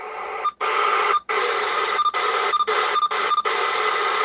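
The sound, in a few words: amateur radio receiver noise floor on sideband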